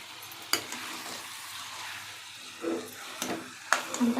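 Food sizzles in hot oil with a soft continuous hiss, broken by a few sharp clicks and scrapes of stirring, with faint voices in the background.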